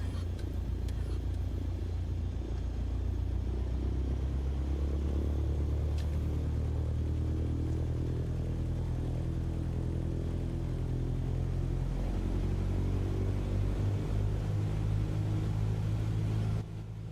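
A car engine in a driving video game settles toward about 1,000 RPM, a steady loud low rumble that holds for many seconds and then drops off abruptly near the end.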